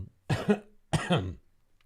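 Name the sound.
cough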